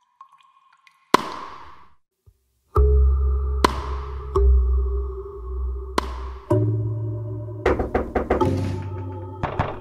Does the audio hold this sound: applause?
no